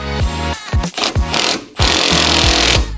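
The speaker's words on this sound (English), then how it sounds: "I'm just using a ratchet." A hand ratchet tightens nuts during a BC Racing coilover install on a Ford Focus RS, with sharp close clicking strokes in short bursts and then a steadier run of rapid clicks.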